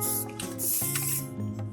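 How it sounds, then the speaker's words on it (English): Spray paint hissing from an aerosol can onto a plastic rain barrel outdoors, a short continuous spray with slight pulses, heard close. "So when you're spray painting, instead of like just holding down the sprayer, that's not good."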